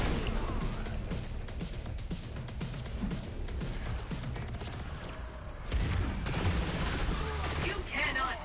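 Video game submachine gun fire crackles in rapid bursts, repeated rattling volleys with a louder stretch near the end.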